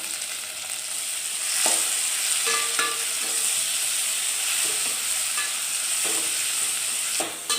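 Onions and tomatoes sauté with salt in a pan as the base for a Chettinad fish curry, giving a steady close sizzle broken by scattered scrapes and clinks of a stirring spoon, with no talking.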